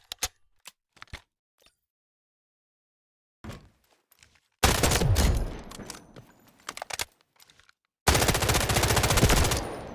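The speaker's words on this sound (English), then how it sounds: "So now let's just shoot the gun and see what we need." A customized gun in the video game Delta Force fires in two long, loud automatic bursts, with scattered keyboard and mouse clicks and a short quiet gap before and between them.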